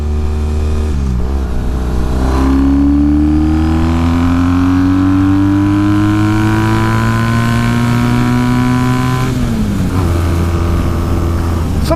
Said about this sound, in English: Love the growl out of this thing. It's great at idle and revving up through the range.